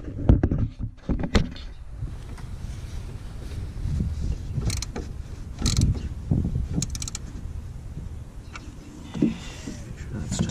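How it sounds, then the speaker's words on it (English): A 10 mm wrench snugs down a nut on a Mishimoto oil catch can being installed on a 2018-2020 Kia Stinger, giving scattered close metallic clicks and creaks at uneven intervals. "Tightening that screw, that nut rather."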